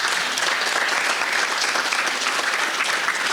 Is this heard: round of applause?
yes